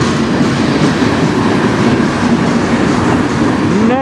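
A CN freight train rolls past on the Strathroy Subdivision in Sarnia, Ontario, a loud, close, continuous rumble of wheels on rail with clattering cars and a brief squeal toward the end.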